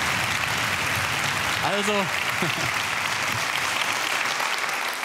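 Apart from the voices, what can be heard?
audience clapping at an award ceremony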